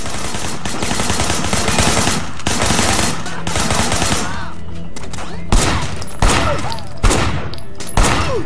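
Rapid automatic gunfire and repeated shots in the open-world action game Sleeping Dogs, a dense loud fusillade with sharp single bursts punctuating the later part, with faint speech underneath.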